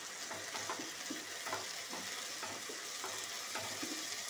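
A ground paste of garlic, nigella seeds and chili is stirred into cooked water lily stems in a pan, giving a soft steady sizzle with rhythmic scraping strokes repeating about every half second, close and quiet.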